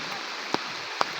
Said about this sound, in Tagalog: Umuulan kasi dito.